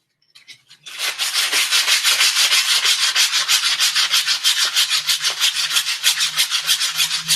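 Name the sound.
sanding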